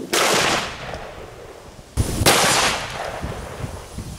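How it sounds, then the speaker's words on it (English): A .450 Marlin rifle fires a Buffalo Bore 430-grain hard cast bullet, two loud sharp reports about two seconds apart, each with a long echoing decay. "So let's give the 450 Marlin one more shot, and this time we'll use a buffalo bore 430 grain hard cast."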